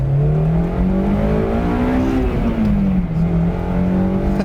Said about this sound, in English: And we'll roll on a little bit here in first gear